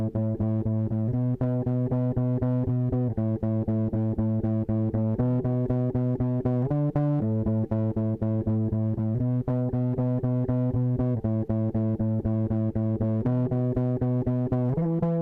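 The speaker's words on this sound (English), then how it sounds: "the first thing I recorded was this bass pluck." A plucked electronic bass plays a steady repeating pattern of short notes, loud and upfront, with small variations at the ends of phrases, in a dark guitar-based hip-hop beat, lightly compressed.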